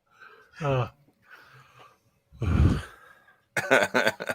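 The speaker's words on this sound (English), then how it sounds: "I'm coughing so hard." A person coughs in a few harsh bursts, one deep and heavy, ending in a rapid string of rough coughs, with breathing between them.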